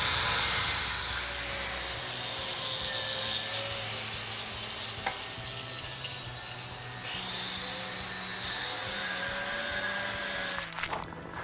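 Shop exhaust fans run in a steady, broadband roar with an airy, vacuum-like whoosh and some faint tonal whines, holding fairly constant throughout before a brief clatter near the end.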